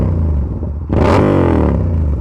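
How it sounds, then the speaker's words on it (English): Yamaha R7 motorcycle with a very loud aftermarket exhaust, idling with a heavy rumble, then a sharp close rev that rises and sweeps back down. "today we are out here with the lovely R7, which has a exhaust so loud that I might call it a war crime."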